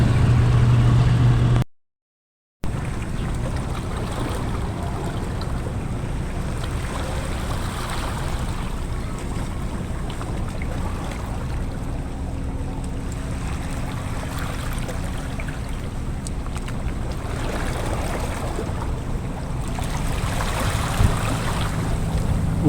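Out at sea by the Samal Island–Davao connector bridge construction site, steady wind and water wash fill the air, with a boat's low hum underneath and a brief dropout near the start.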